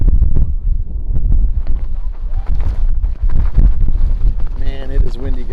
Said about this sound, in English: Man, it is windy, guys. I don't know if you can hear that.